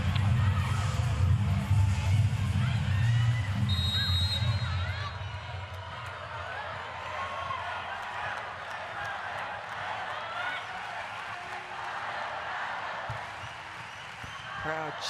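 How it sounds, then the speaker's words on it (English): A crowd roars steadily for Thailand in a volleyball match against Serbia, loud and continuous from start to finish, with a commentator talking over it. "Crowd cheering for Thailand relentlessly."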